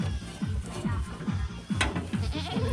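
Rapid, repeated low goat bleats pulse in a steady rhythm, close by, with faint background noise and a brief voice.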